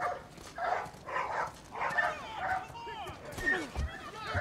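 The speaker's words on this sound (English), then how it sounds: "Shut them dogs up. I love dogs, but when they get to barking" Several dogs bark in The Last of Us, a run of quick, overlapping barks and yips at moderate distance, mixed with voices talking.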